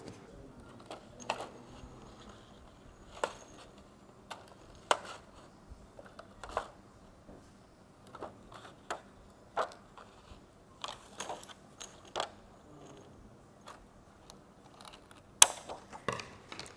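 A shoe sole mould lining sheet is cut in a quiet room: soft, sharp snips and clicks come at irregular intervals, close by and faint, with no talking.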